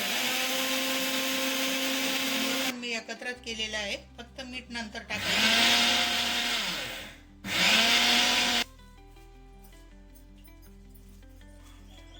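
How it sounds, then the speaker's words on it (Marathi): A kitchen mixer grinder whirs loudly, grinding spice masala for yogurt-stuffed chillies, with steady motor runs broken by stop-start pulses, then stopping as someone talks over quiet background music. "आता मी मिक्सरमध्ये बारीक करून घेते"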